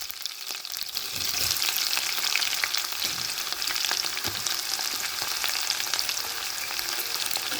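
Chopped onion with green chilli, ginger and tempering spices sizzles steadily in a hot oiled pan, a loud continuous frying hiss that is stirred now and then, with no voices.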